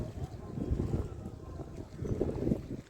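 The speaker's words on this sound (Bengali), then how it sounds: "প্রচণ্ড দক্ষিণে হাওয়াও আছে আজকে নদীতে" Strong southerly wind blowing across a river in the Sundarbans, buffeting the microphone in low gusty rumbles that swell and ease, fairly faint overall.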